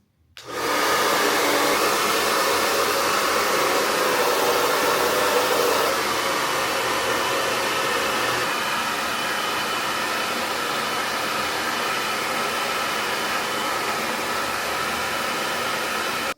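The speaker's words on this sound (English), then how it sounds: "the little universal folding diffuser, and it pretty much attaches to any blow dryer" Blow dryer fitted with a universal folding diffuser runs continuously while drying hair, a loud steady whooshing roar from start to finish with no talk.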